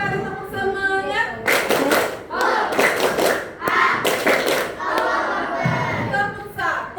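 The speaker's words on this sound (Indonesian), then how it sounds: "Satu kali tepuk semangat." Children in a classroom doing a rhythmic spirit clap, bursts of loud, close group clapping in sets between chanting voices.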